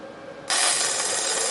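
Stick arc welding on steel for a steel screen stand, a sudden onset of loud steady crackling hiss after a brief quiet moment, continuing close and unbroken.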